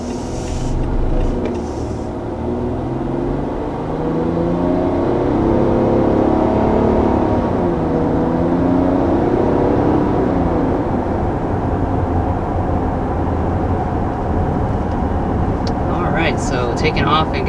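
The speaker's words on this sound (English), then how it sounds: "taking off and getting up to speed in the 2019 Nissan Pathfinder" A 2019 Nissan Pathfinder Rock Creek pulls away from a stop and gathers speed, its engine note a steady mid-loud drone from inside the cabin, rising gradually with road noise underneath.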